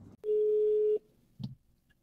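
A phone call's outgoing tone from a mobile phone in a parked vehicle in the desert near Wafra, Kuwait: one steady ringing tone of about three-quarters of a second, then a short faint click and quiet line noise.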